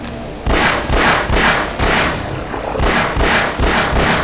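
A gun fires repeatedly in the video game Half-Life, a series of roughly eight loud, evenly spaced blasts about half a second apart, each with a booming low thump and a noisy burst.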